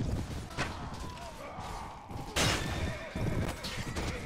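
A horse whinnies amid the noise of a medieval battle in a video game, with sharp clashes and impacts over a dense, constant din of fighting.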